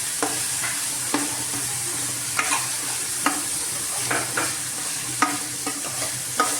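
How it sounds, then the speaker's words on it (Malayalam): Carrots and beans are stir-fried for chicken fried rice, a steady sizzle under repeated scraping stirs and clinks of a utensil against the pan, close and moderately loud. "അതുകൊണ്ട് ഞാൻ ബീൻസും ഇട്ടതിന് ശേഷം ക്യാരറ്റാണ് ഇടുന്നത്. എന്നിട്ട് നമുക്കൊന്ന് മിക്സ് ചെയ്ത് കൊടുക്കാം."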